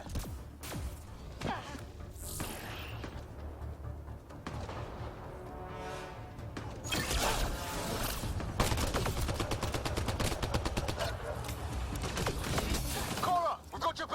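Rapid gunfire and explosive impacts from a firefight in Mass Effect: Andromeda, with bursts of shots, heavy thuds and shattering debris, loud and dense, with game voices shouting over the combat.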